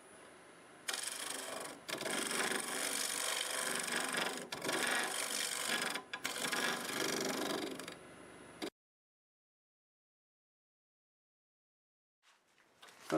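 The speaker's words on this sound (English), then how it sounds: "we'll use a negative rake scraper on the upper part" Camellia stump wood turning on a lathe under a negative rake scraper, a loud steady scraping rasp in several bursts with short pauses, then stopping into silence.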